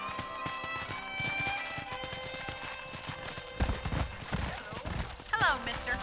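Horse hooves clip-clop at a steady walking rhythm in the Red Dead Redemption video game, close and fairly quiet, with a neigh near the end and game dialogue spoken over them.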